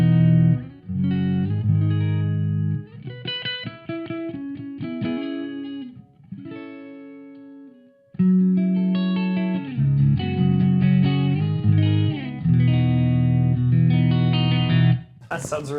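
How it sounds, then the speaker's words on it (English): Clean electric guitar played through a free software rig with Valhalla Supermassive reverb set to a glassy tone, ringing chords and single notes with long washy tails, loud and close, pausing briefly in the middle. "And there you are, a glassy clean with a reverb."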